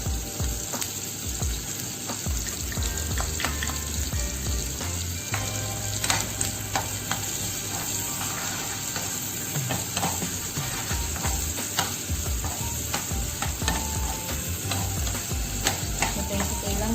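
Garlic and onion sauté in a hot pan for pork adobong tuyo, a steady loud sizzle and crackle that runs throughout, with the scrape and clatter of a utensil stirring.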